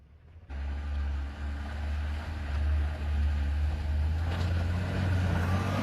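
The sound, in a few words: car engine revving while stuck in snow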